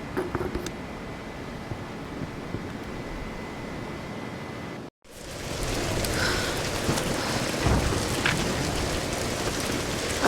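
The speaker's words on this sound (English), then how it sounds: "We're getting closer to the storm." Steady rain hisses in a Tomb Raider storm scene, with a brief silent cut midway before heavier, louder downpour and wind resume with low rumbling.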